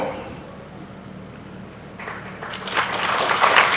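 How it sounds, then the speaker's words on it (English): An audience at a college launch ceremony in Shillong gives a round of applause for an engineer. The clapping starts after a quiet moment and swells into steady, full applause from a large hall. "we should give him a round of applause"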